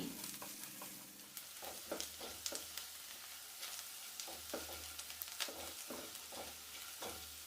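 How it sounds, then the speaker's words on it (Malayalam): Onions sautéed with green chillies and curry leaves in a pan for a Kerala-style chicken stew, a soft steady sizzle broken by repeated scraping stirs of a spoon, close and fairly quiet, with no talk. "ഇപ്പോൾ സവാള നല്ലപോലെ ഒന്ന് വഴറ്റിയെടുത്തിട്ടുണ്ട്."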